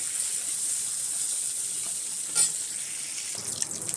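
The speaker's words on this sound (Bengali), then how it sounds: "মাছের মাথাটা আমাদের ভাজা হয়ে গেছে এর থেকে বেশি ভাজবো না" A hilsa fish head frying in oil in a kadai makes a steady close sizzling hiss throughout, broken once by a brief clink of a utensil; no one speaks.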